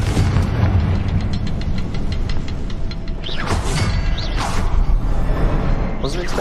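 Confringo blasting spell in Hogwarts Legacy, a series of booming explosions with whooshing bursts, loud and close over game sound and a voice speaking.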